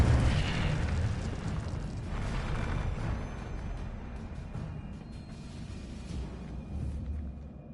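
Fiery spell blasts cast repeatedly in Hogwarts Legacy, a dense roaring burst up front that settles into a continuous rumbling crackle, loud and close with no voices over it.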